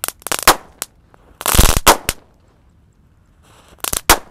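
Firecrackers go off in quick bursts, sharp cracking pops in clusters with a dense rattling volley in the middle, then a pause before a final few loud bangs.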